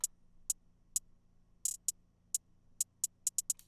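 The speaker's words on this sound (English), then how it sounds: "Then we have the hi-hats, which are going to sound like this." A hip-hop hi-hat pattern ticks alone in crisp, bright hits, spaced evenly at first and then quickening into faster rolled clusters near the end.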